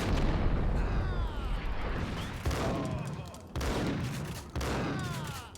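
Gunfire from the video game Max Payne rings out in several heavy booming shots spaced about a second apart, each followed by a ringing decay, with a voice in the mix.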